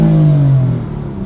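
A BMW M4 engine revs up close and loud as the car accelerates, its pitch sliding through a gear change before settling into a steady drone.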